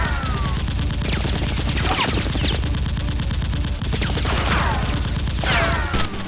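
Rapid, loud, continuous bursts of shots from Nerf guns in a staged fight scene with masked henchmen, firing densely and close with almost no pause.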